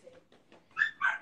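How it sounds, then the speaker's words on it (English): A dog lets out two short, high-pitched whimpering yelps close by, preceded by a few faint soft sounds in an otherwise quiet room. "shut that fucking dog up"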